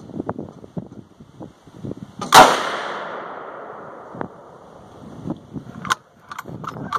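A single loud, close gunshot from a 450 Bushmaster rifle firing an AA#9 handload with a Hornady 200gr FTX bullet, a sharp crack with a long fading echo, set among quieter handling clicks and rustles outdoors.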